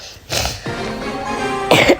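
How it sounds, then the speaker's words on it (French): Two harsh coughs from someone with a cold, up close, one at the start and another near the end, with a rough, throaty rasp between them. "Je tousse un peu, j'ai un peu le rhume."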